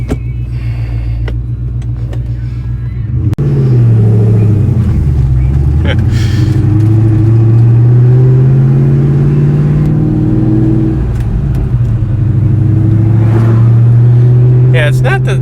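A 2004 Ford Mustang SVT Cobra in Mystichrome, with a deep engine drone that starts up and rises and falls through revs as the car pulls away and cruises, loud and close, with someone talking over it.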